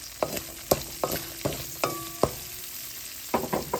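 Onions go into a pan of frying garlic and are stirred, giving a series of sharp scraping clatters over a steady soft sizzle, close by and with no talking.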